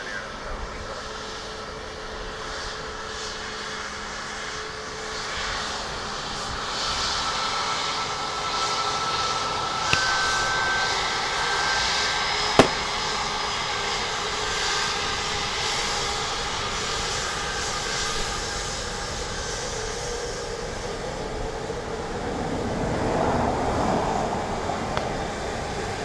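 A fixed-wing airplane lands at Dublin Airport, a steady, moderately loud broadband roar of engines that holds for the whole stretch. One brief sharp click cuts through it midway.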